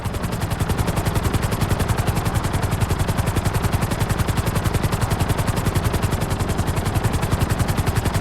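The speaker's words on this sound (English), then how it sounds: "we'll see how well you handle the chopper" A helicopter in GTA 5 flight school thumps with a fast, steady rotor chop, loud and close, pulsing evenly for the whole stretch with no voices.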